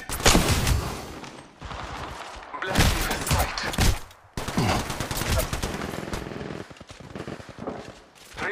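Automatic gunfire in an Apex Legends match, with sustained loud bursts of rapid shots broken by brief pauses and a few heavy thuds, dense and close throughout.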